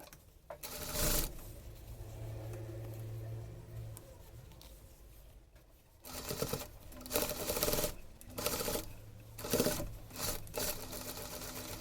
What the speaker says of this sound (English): the sides have a roll hem, so I will fold twice and do the top stitch